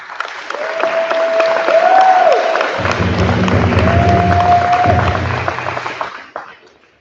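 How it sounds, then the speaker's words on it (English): An audience applauding the class of 2022 at a graduation ceremony of the Fond du Lac Ojibwe School: a broad wash of clapping with whistles and cheers over low music, fading out toward the end. "Give them a round of applause."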